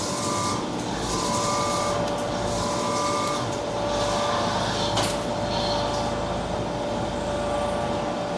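A CNC machine milling a 3-inch steel trailer lift block, giving a steady, loud, continuous cutting drone with a sustained whine and a brief sharper scrape midway, close up and with no speech.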